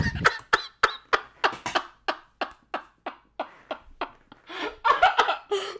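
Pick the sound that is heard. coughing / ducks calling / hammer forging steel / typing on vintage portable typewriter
coughing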